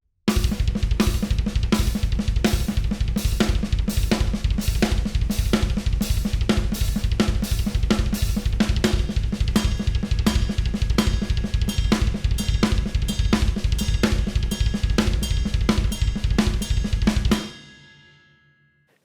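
Drum kit played with continuous triplet patterns on the hands and double bass pedals under them, a dense, loud, driving stream of hits lasting about seventeen seconds before the cymbals ring out and fade.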